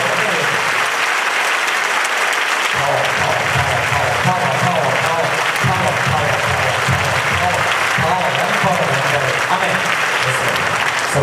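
A church congregation clapping hands together, a loud, dense, continuous wash of applause filling the space, with a voice speaking over it partway through.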